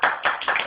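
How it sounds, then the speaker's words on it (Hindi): Bursts of audience clapping at a political rally speech in Haripur, arriving in quick rhythmic waves that sound close and moderately loud, with no voices over them. "तालियां ना बजाएं प्लीज, डिस्टर्बिंग पैदा ना करें"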